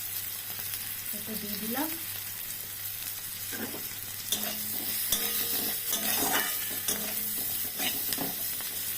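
Pointed gourd fries in darkened oil with salt, turmeric and chili, giving a steady close sizzle broken by spatula stirring and scraping against the pan, with a brief spoken remark.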